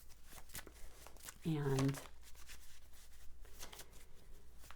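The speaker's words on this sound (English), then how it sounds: "I do shuffle them very well" A deck of tarot cards shuffled by hand in rapid crisp riffles, close and soft, with one louder crinkling burst near the start of the second second, while a person talks alongside.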